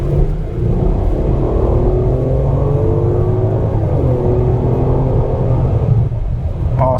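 A 2021 Mercedes-Benz S500 sedan accelerates in sport mode, its engine giving a steady low rumble with rising gear-by-gear tones, heard from inside the cabin over road noise.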